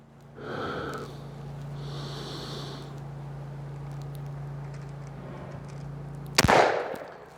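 A Stevens 301 Turkey Thumbhole .410 shotgun fires a single sharp, loud report at a turkey target near the end, after a stretch of quiet outdoor hum and breathing.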